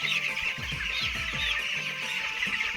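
Broiler chicks on a poultry farm during vaccination, a dense chorus of high, rapid peeping from many birds close by, continuous and fairly loud.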